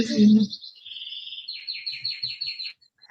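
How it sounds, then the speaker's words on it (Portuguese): Small birds chirp and trill outdoors in a few high, rapid, twittering phrases at moderate distance. A brief human voice comes just before the birdsong, and a few faint low sounds sit underneath it. "Tem passarinhos cantando por aí."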